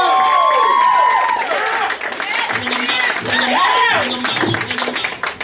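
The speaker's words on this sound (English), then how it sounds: "Please give a round of applause for Mr. Tim Snook, everybody." A comedy club audience at Flappers in Burbank claps steadily and cheers loudly, with whistles and shouts mixed through the dense applause while a host's voice carries over the crowd.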